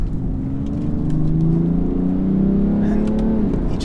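A 2017 BMW 335d diesel pulls hard from a standstill to sixty, its engine note rising steadily in pitch through the gears, loud and close from inside the cabin, with no talk over it.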